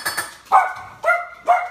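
Three sharp dog barks spaced about half a second apart, close and fairly loud, preceded by a brief higher yelp.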